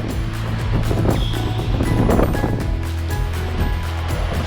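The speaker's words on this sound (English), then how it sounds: "You know that headwind I mentioned? It's definitely not so funny anymore." Strong headwind buffeting a cyclist riding along the Canal de Bourbourg: loud, steady roaring wind noise blasting the microphone, with low rumbling gusts throughout and no talk.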